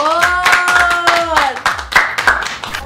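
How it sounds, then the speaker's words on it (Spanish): A small group clapping close by in a quick, uneven rhythm, with a voice speaking over the clapping at the start. "Un aplauso, por favor."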